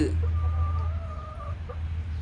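Backyard chickens and a rooster, a Bonda and country-breed cross, give a drawn-out cluck over a steady low hum. The call is close and moderately loud.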